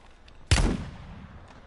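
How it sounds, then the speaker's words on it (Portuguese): A single sniper rifle shot in the video game Call of Duty Warzone on Rebirth Island, one loud booming crack with a short decaying tail, heard alone and close. "Ixi, tomou a snipada."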